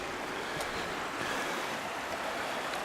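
Water emerging straight from the ground flows into the mouth of Russell Cave, a soft continuous rushing wash with faint gusts, steady and fairly quiet across the short stretch.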